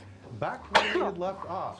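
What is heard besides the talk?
sneeze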